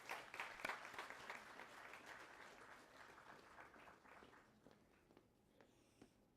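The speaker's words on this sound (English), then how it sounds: "Can we have a big round of applause," Audience applause at a World AMR Awareness Week event honouring a speaker, a steady wash of many hands clapping that gradually thins and fades toward the end, with a few scattered claps left.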